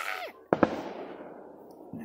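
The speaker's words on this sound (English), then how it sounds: "And then that firework went off?" A firework cracks in two quick sharp pops on the Fourth of July, followed by a fading rumbling tail, heard at moderate distance after a brief whistle-like sweep.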